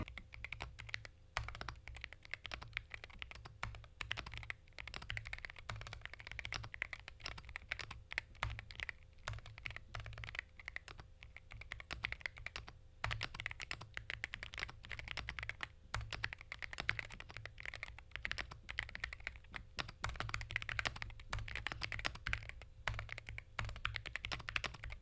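Steady, fast typing on a Cidoo C75 aluminium-case keyboard with magnetic switches, a continuous run of crisp clacks and taps close to the mic, alone with no voices throughout.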